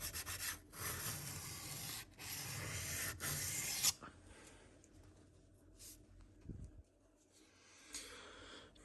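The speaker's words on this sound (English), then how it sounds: "if we didn't have this 120 grit stone, we wouldn't be able to cut down into this steel as quickly" Steel knife blade ground on a 120 grit sharpening stone, a loud steady rasping scrape in long strokes for about four seconds, then quieter intermittent rubbing.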